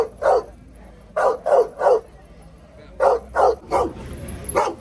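A dog barks repeatedly at a busy outdoor market in El Harrach, sounding in short bursts of two or three loud, close barks separated by brief pauses, with faint crowd noise underneath.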